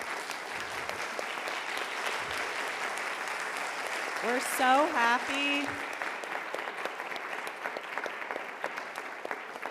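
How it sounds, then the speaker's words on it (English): Steady applause from a conference audience at a panel on international funding for food waste solutions fills the room throughout, with a brief spoken voice rising over the clapping midway. "please, huge round of applause."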